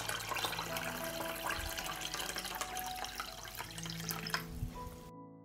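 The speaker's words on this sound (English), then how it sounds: "I pour water up to the height of the lid." Water pours steadily into a pan of glass jars set on a cloth for pasteurizing. The close, trickling and splashing flow runs continuously for several seconds, then stops abruptly.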